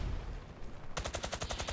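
The 93R pistol in Battlefield Play4Free fires in three-round bursts, a rapid series of sharp, close, evenly spaced shots after a brief quieter stretch of game ambience.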